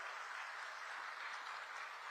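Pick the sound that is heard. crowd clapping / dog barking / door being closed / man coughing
crowd clapping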